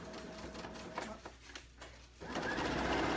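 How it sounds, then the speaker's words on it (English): A sewing machine runs a straight stitch through a child's blanket with a steady close whirring hum. The hum pauses briefly with a few uneven clicks, then resumes louder and continuous. "I'm going to just sew a straight stitch, or I could have done a zigzag."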